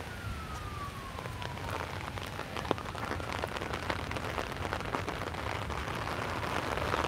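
Heavy rain pours steadily near the White House in Washington DC as a big storm moves in, a dense, even hiss of drops with a faint siren wailing in the distance early on.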